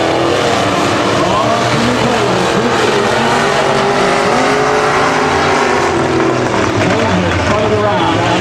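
A race car spins out with skidding tires during a 250 speedway race, its loud, continuous engine roar and tire noise filling the whole stretch while a commentator talks over it.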